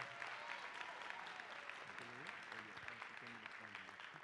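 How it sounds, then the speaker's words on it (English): Faint graduation audience applause at the Wilkins Theatre, a soft distant patter of clapping with a voice talking over it midway. "Give them another big round of applause"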